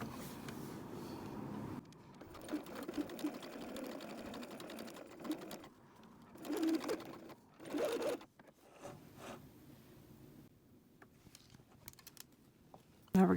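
A sewing machine stitches a curved quarter-inch seam on a change purse in steady runs, with slow stops and restarts and a few brief pauses, close and clear.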